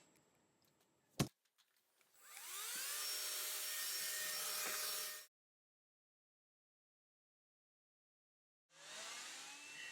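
An Electrolux Ergorapido Ultra+ upright vacuum with a removable handheld unit starts after a sharp click and runs with a loud, steady whirring hum for about three seconds. It then cuts to silence and starts up again near the end. No one speaks.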